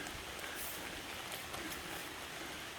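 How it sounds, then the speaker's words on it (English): Steady rain falling on a forest hiking trail, a soft even hiss throughout with no voices. "it's a fun day in the rain."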